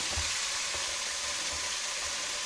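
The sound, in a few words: cabbage frying in a pan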